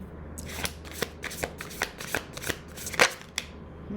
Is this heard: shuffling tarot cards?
yes